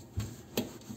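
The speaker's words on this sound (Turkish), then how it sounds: "Süngerin arka tarafının içerisini zımpara yapar gibi güzelce temizleyin." The abrasive back of a kitchen sponge scrubs a blackened stove burner, giving two or three short, rough rubbing strokes close up, with no voices.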